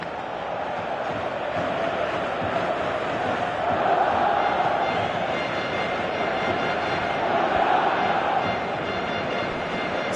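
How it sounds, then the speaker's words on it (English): A dense stadium crowd in the football video game PES 2018 roars and murmurs continuously at steady loudness, swelling slightly twice, with no clear talk over it. "you can feel and hear how the crowd are reacting to all of this"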